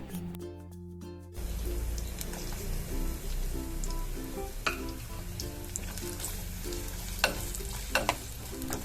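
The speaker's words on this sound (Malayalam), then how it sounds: "ഈ ചട്ടിയിലുള്ള ബാക്കി വന്ന എണ്ണയിലേക്ക് തേങ്ങാക്കൊത്ത് ചേർത്തിട്ട്" Coconut pieces frying in leftover oil in a pan, a steady sizzle with repeated stirring scrapes and occasional sharper pops, following a brief quieter start.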